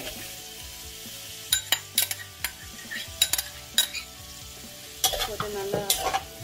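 Dried red chillies frying in hot oil in a kadai for onion chutney, a soft sizzle broken by sharp metal clinks and scrapes of a spoon against the pan, arriving in quick uneven bursts.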